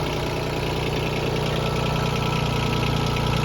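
Yanmar F155 mini tractor engine runs steadily with its mechanical rotary tiller attached, a continuous close mid-low drone with a harmonic hum and no talk.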